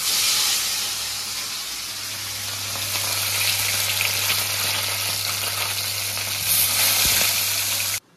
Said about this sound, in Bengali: আলু ভাজা করতে মন চাইলো, আলু ভাজা করছি